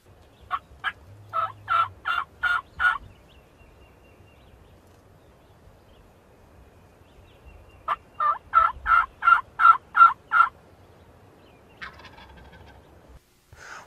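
A wild turkey gobbles in two long rattling bursts separated by a quiet pause, then gives a shorter call near the end, loud and clear with no talking.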